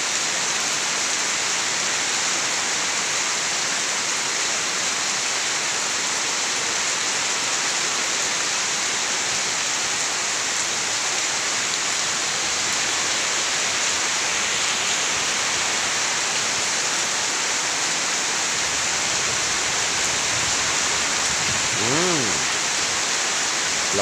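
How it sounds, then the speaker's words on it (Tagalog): Heavy rain pours in a loud, unbroken hiss for the full stretch, dense and steady throughout, with a brief tonal whine rising near the end. "Lakas ng ulan."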